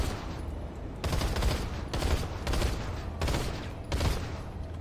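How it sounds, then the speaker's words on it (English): Weapon fire aimed down the sights in the shooter game Planetside 2, heard as several short, loud bursts of rapid gunshots separated by brief pauses, with no talking. "Let's see what result we get with multiple triple shots with no recoil control."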